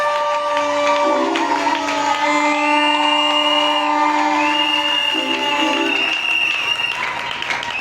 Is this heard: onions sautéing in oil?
no